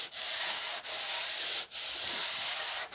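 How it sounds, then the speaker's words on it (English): Steady, rough back-and-forth scraping of sandpaper wrapped on a block, sanding wood along the grain, each long stroke broken by brief pauses, close and fairly loud with no voices. "So I'll wrap this sheet of paper here, and I'll go in the direction of the grain."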